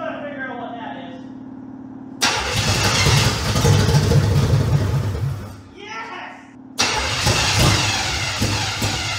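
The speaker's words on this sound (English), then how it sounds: "I want to make sure I can hear it run before I start giving it gas." A 1978 Camaro engine cranks and catches at close range, settling into a loud, rough running idle that dips briefly before surging back; a voice talks faintly under the start.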